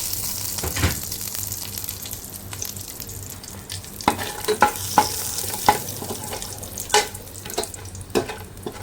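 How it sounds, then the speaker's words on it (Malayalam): Whole spices (bay leaf, cinnamon, cloves and cardamom) frying in hot oil for beef biryani, giving a steady close sizzle with scattered sharp pops and crackles, and the odd stirring clink. "ബാക്കി ഫ്ലെയിം ഓണാക്കി ചൂടാക്കാൻ വെച്ചു അതിനകത്ത് ബേ ലീഫ് കറുവപ്പട്ടയും ഗ്രാമ്പു ഏലക്ക എല്ലാം കൂടി ഇട്ട് കൊടുത്തിട്ടുണ്ട്"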